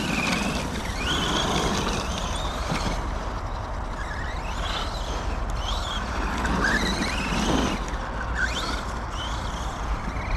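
A 1/8-scale RC truggy fitted with X-Maxx tires drives off-road, its electric motor whining in repeated rising and falling bursts over a constant rumble of tires on rough ground.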